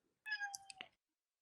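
A single cat meow rises briefly and fades, heard faintly in a quiet room during a Dungeons & Dragons session.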